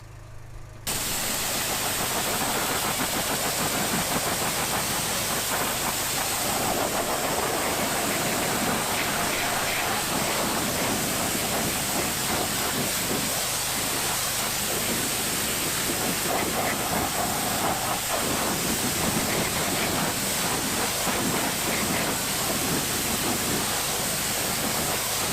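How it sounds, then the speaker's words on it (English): A pressure washer sprays steadily onto a car wheel, a loud continuous hiss and rush of water that barely changes from start to finish and has no talk over it. "I'm going to get the pressure washer warmed up"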